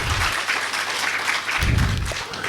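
Enthusiastic applause rises from the audience at a Brahma Kumaris Shivratri spiritual talk, a continuous, fairly loud clapping wash with a low rumble of movement beneath it.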